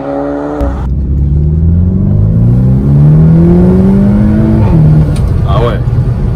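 A Volkswagen T-Roc R, 300 hp, fitted with an Akrapovic exhaust, gives a loud sustained rev that climbs steadily then drops, heard close from the cabin, with a voice speaking briefly over it.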